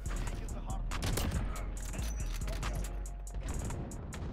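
Modern Warfare gunfight with Kar98k sniper rifle shots, sharp rapid cracks and bursts over a constant low rumble, with a voice talking in the background.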